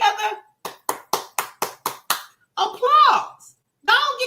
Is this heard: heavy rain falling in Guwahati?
no